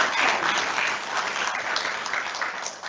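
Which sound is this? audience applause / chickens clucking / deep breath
audience applause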